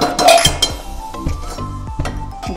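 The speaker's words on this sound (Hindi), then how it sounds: "ढक दीजिए लिड" Metal lid set onto a cooking pot of Hyderabadi chicken tahari in a home kitchen, a few close, bright clinks and clatters of metal on metal, short and sharp, with faint follow-up rattles.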